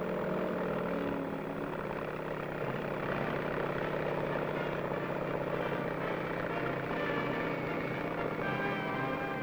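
Steady, droning rotor and engine noise from the McDonnell XV-1 convertiplane rotorcraft in flight during 1950s testing, a continuous even roar with a throbbing beat throughout, no voices.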